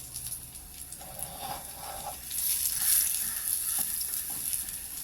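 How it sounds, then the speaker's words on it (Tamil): Figs and dates are dry-roasted in a pan for Tirunelveli fruit halwa, giving a soft, continuous sizzle with faint stirring scrapes at moderate loudness and no talk. "இதில்ங்க இந்த அத்திப்பழம், பேரிச்சம்பழம் ரெண்டையும் போட்டு ஸ்லைட்டாக வறுத்துக்கலாம்"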